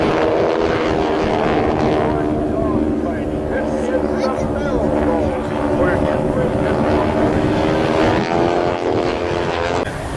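Propeller airplanes fly a formation maneuver at an airshow, a steady droning engine roar that holds strong throughout, with a commentator's voice over the public address running beneath it.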